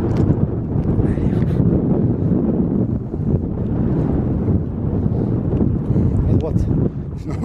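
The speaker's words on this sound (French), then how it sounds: "Or quel vent qu'il y a." Strong mountain wind buffets the microphone in a steady, loud low roar without pause, on an open slope near a col, with people talking faintly beneath it.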